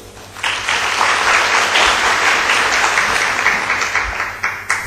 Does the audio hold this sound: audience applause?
yes